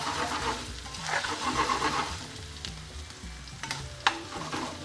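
Red and green peppers fry and are stirred in a pan for a tofu tikka curry. The sizzle stays steady and close throughout, with a few louder scrapes or clinks near the end.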